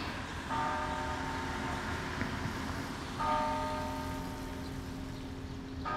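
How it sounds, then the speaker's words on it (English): Church bells ring out over a rainy Norwich, Connecticut street near Chestnut Street and the courthouse, two sustained tolls a few seconds apart, mid-distance over steady rain hiss. "The bells are going off."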